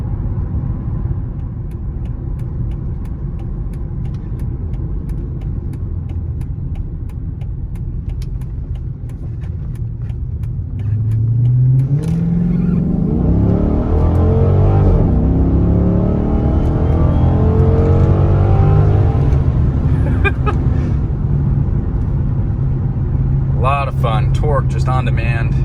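Cabin-side exhaust of a 2007 Dodge Magnum SRT8 with the 6.1 Hemi V8, a steady low cruise rumble that swells into a loud rising roar under hard acceleration midway, then settles as a voice begins at the end.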